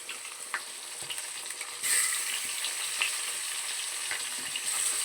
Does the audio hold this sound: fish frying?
yes